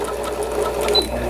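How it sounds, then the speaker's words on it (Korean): A repaired Singer Computer 9780 sewing machine, a Japanese domestic model, stitches an overlock stitch at slow speed, giving a steady, close mechanical whirr with rhythmic needle clatter throughout. "오버록 스티치까지 정상적으로 박음질이 되는 신거미싱 컴퓨터 9780이라는 기계"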